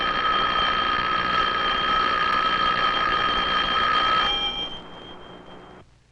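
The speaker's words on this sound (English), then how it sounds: "how does the sound of the electric bell travel to our ears?" Electric bell ringing loudly with a sustained, shrill metallic buzz, then cutting off and leaving a quieter ringing tail that fades out.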